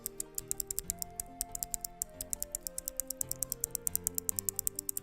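Clicky mechanical keyboard key switches pressed in a fast, steady stream of sharp, bright clicks, close and distinct over faint background music, with no talking.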